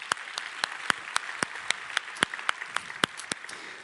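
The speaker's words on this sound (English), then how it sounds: "Let's go ahead and give him a round of applause too." Scattered, fairly quiet applause from the audience at an ICSE software engineering conference awards and closing ceremony, with individual claps spaced unevenly rather than forming a dense roar.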